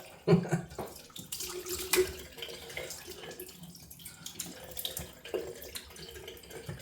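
Tap water runs into a sink for a rinse after a wet shave, splashing unevenly with bursts and drips close by, no talking.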